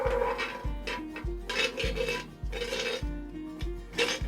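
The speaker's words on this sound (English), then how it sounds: "we're going to put 1 good spoon of lard in there" A spoon scrapes and spreads lard across a hot pan, producing repeated rough rasping strokes at a fairly even rhythm, close and clear with no voices.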